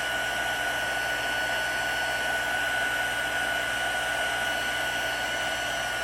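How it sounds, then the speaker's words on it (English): A heat tool blows steadily for the whole stretch, giving a constant loud whooshing hiss with a faint whine in it and no pauses. "You want to make sure your heat tool is nice and warm."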